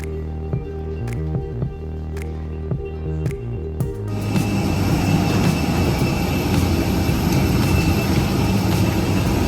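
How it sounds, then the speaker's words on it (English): Engine noise inside a Jetstar Airbus A320 cabin, a steady low drone with tonal hum, rises to a broader, louder roar partway through as the engines spool up, with faint clicks early on. "Welcome aboard Jetstar's A320 Airbus from Narita down to Osaka."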